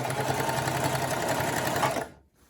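Singer Classic sewing machine stitching a pant hem, a steady close mechanical whirr of the motor and needle running continuously for about two seconds before stopping abruptly.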